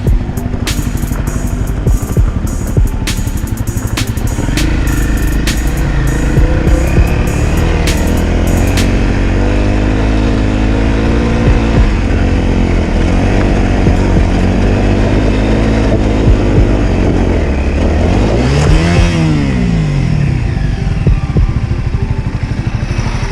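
A Honda CRF 250 dirt bike with Nelson-Rigg saddlebags revs and labors as it climbs a big hill, the engine loud and close, rising and falling in pitch, then surging sharply near the end.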